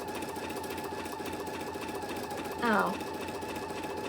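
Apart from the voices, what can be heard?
embroidery machine sewing a placement stitch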